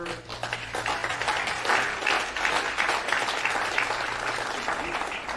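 Audience applause in a large room, a steady dense wash of clapping lasting several seconds, loud and close, with faint talk underneath.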